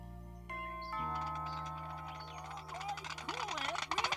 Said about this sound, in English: have you figured out how the doorbell works?